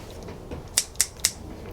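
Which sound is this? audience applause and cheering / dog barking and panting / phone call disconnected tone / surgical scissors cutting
surgical scissors cutting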